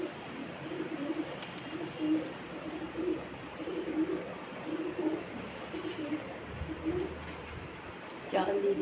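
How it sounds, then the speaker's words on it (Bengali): Pigeons coo in soft, repeated low phrases at a steady pace against a hushed background hum, fairly close but quiet, with a brief rustle near the end. "চলে এসেছে পায়রাগুলো।"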